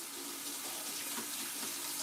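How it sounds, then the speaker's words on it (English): Tap water runs steadily into a sink during a quick hand wash, a continuous close splashing hiss with no talking. "Wash my hands real quick."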